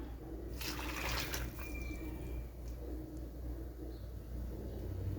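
Warm water pours into a bowl for bread dough in one brief splashing burst near the start, quiet over a steady room hum, then only the faint background remains.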